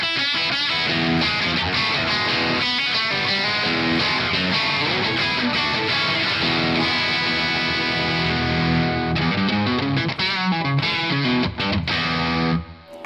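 Electric guitar played through a parallel distortion pedal in deep mid-cut mode with an LED clipping setting, giving a tight, scooped, heavily distorted tone; dense sustained chords and riffs ring continuously and loud throughout, alone without voices.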